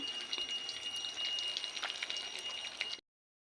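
Fish frying in a pan over a fire, a steady close sizzle with crackling spits of oil running continuously, then cutting off abruptly.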